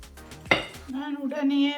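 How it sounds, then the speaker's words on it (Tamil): Steak being mixed with olive oil in a bowl, heard as a few soft scraping and clinking utensil sounds against the dish, with one sharper clink near the middle, close up and brief, with a faint hum underneath. "இதை இதோட சேர்த்து ஆட் பண்ணிவிட்டு மிக்ஸ் பண்ண போகிறேன்."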